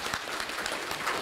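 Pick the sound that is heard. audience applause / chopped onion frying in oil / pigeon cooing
audience applause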